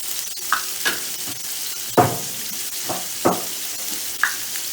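Chicken sizzling and frying in oil in a pan, a steady hiss broken by several sharp crackles and stirring scrapes spaced through the clip, close and with no talking.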